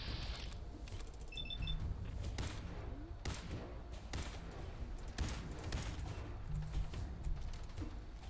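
Gunfire from the video game Fallout 4 cracks in a series of separate sharp shots spread across the stretch, fairly quiet against a low background rumble.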